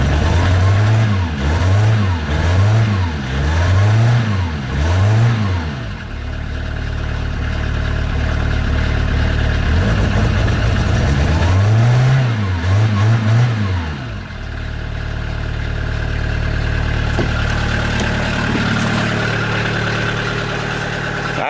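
A cantankerous diesel engine with an injection pump and a suspect glow plug relay cranks and catches in two bursts of rhythmic churning, settling into a loud, rough idle between and after the attempts.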